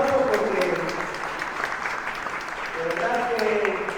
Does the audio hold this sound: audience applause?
yes